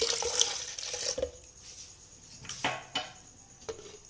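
Water from a glass goes into a blended date milkshake mixture in a kitchen, with a splashy pouring burst at the start followed by a few soft clinks and knocks of dishes nearby.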